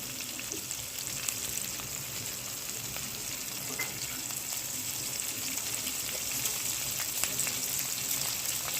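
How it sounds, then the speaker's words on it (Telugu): Green chillies fry in oil in a pan for a capsicum, pudina and onion chutney, giving a steady, close, even sizzle that holds for the whole stretch with no voices over it. "ఇప్పుడు సపరేట్గా కొంచెం నూనె వేసేసి మనం పచ్చిమిరపకాయలని వేయిస్తున్నాం"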